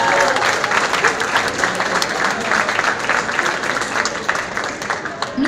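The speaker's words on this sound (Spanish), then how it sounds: "quiero que le den un aplauso a este hermoso talento" Audience applause at the VERACON 2015 convention in Veracruz for a performer, a loud, continuous wash of clapping with some crowd noise and faint voices mixed in, steady throughout.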